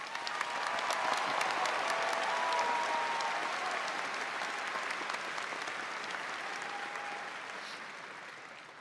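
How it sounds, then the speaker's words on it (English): Audience applauding at a high school graduation ceremony, a broad sustained wash of clapping from a large crowd that swells early and then slowly tapers off. "please give those students a round of applause."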